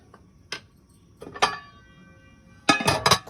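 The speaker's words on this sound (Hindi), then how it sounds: "अब इसे मैं ढक्कन लगा के रख देती हूँ" Metal lid set onto a cooking pot of water, giving a few separate clinks and taps: a light knock, a sharper clatter, then a cluster of ringing metallic contacts near the end, close and fairly quiet.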